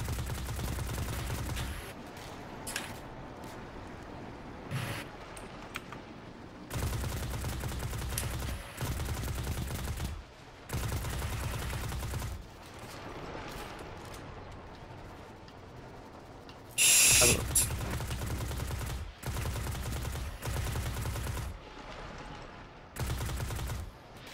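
Bursts of gunfire in Destiny 2, repeated rapid volleys separated by short gaps over about twenty seconds, loud and close with no voices.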